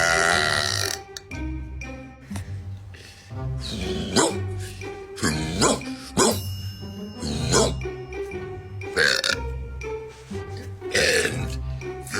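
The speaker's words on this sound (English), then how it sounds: "Here are my belching skills." A series of deliberate, loud belches, one after another with short gaps, close and forceful, with long drawn-out throaty burps alone and no talking between them.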